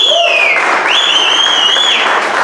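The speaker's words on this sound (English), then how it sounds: "Everyone give a big round of applause to Wintel." Audience applause at a SecKC security meetup after a talk, a dense steady wash of clapping lasting a couple of seconds, with high whistle-like tones sliding over it.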